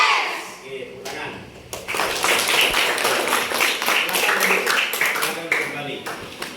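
Children in a classroom clap their hands together in a dense, ragged burst that swells and carries on for several seconds, with voices mixed in among the claps.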